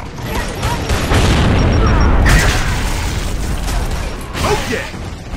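Frag grenade going off in Gears of War: Judgment, a loud, close explosive boom with crashing debris and a mechanical rumble filling the scene, followed by a second burst near the end amid dense combat noise.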